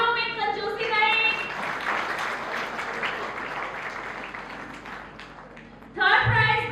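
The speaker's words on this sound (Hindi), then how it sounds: "तालियों में कंजूसी नहीं।" At an award ceremony, an audience breaks into sustained applause that fills the room and slowly fades. A voice speaks at the start and again at the end.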